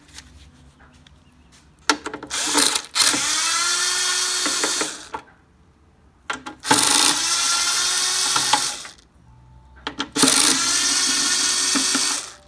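A handheld power tool loosens 5/16 bolts holding the gas tank on a used lawn mower. It buzzes in three loud, close bursts of two to three seconds each, with brief quiet gaps and clicks between them.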